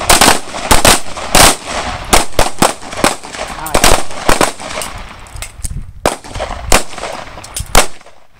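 Rapid bursts of gunfire ring out during a Class 1 malfunction drill on a law-enforcement firing range, shots in irregular clusters with brief pauses, loud and close.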